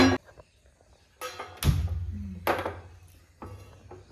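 A pan is handled on a gas stove, giving sharp metallic clunks and knocks at irregular intervals, with quiet gaps between them.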